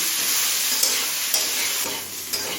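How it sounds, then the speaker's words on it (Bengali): Potato, beetroot and carrot fry in a pan, a steady broadband sizzle running throughout with a few soft clicks of stirring spaced across it, close and fairly loud with no voices. "যে সবজিগুলো সিদ্ধ হতে একটু বেশি সময় লাগে সেই সবজিগুলোকে আমি আগে ভেজে নিচ্ছি"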